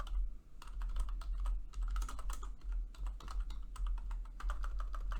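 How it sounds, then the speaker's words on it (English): Fingers type on a computer keyboard in quick, uneven bursts of close, crisp key clicks, with no one talking. "If I can type."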